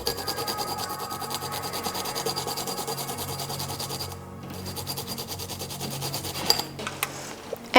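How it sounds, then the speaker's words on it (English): Garlic cloves are grated on a small ceramic garlic plate, giving a continuous fine rasping rub, close and moderately quiet, with a short pause and a few knocks near the end; no voices. "So I'm just gonna get these grated up on my little garlic plate."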